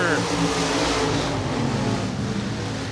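Race cars roar around a dirt oval at Deep South Speedway in Loxley, Alabama, with a steady, loud layered engine drone under a commentator's voice.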